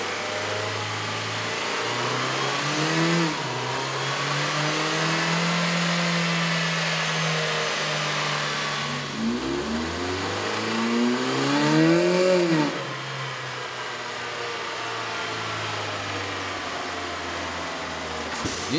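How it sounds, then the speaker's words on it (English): A 2011 Ford Fiesta 1.6L engine fitted with an aftermarket air intake revs on a dyno, a droning mid-pitched engine climbing and falling in pitch through two long sweeps, then settling to a steady idle-like hum, close and loud without talk. "With the air intake installed, we ran the vehicle on the dyno to test the sound comparison versus the stock intake."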